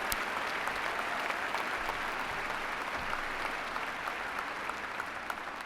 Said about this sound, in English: 2016, applaud yourselves.